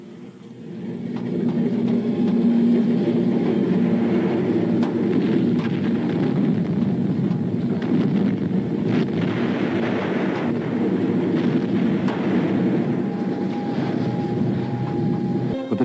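A wartime train travels on rails, a loud continuous rumbling roar with rattling wagons that holds steady throughout, with a faint whistle-like tone near the end.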